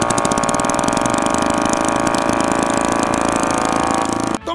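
An overloaded motorcycle engine labors at steady high revs in a loud, close, droning roar with a rough buzzing vibration, then cuts off abruptly near the end.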